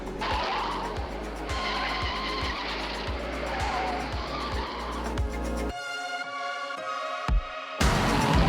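A car in a film chase behind a Winnebago on a road, roaring and skidding with repeated tire squeals and engine noise, then cutting briefly to quieter sounds before resuming loud.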